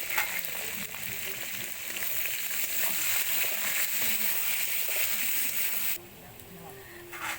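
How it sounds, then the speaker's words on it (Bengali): Onions fry lightly in a pan, making a steady close sizzle with a few soft stirring scrapes, and it eases off slightly near the end. "পেঁয়াজগুলোকে এবার হালকা করে একটু ভেজে নেওয়া হবে।"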